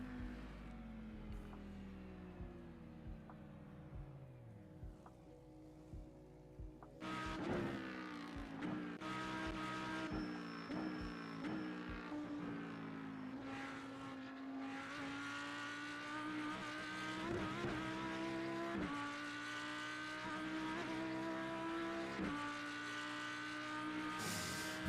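Audi GT3 race car in iRacing at Monza: a simulated engine holds a steady drone, then revs climb and fall through repeated gear changes, the tone stepping up and down continuously over the whole stretch.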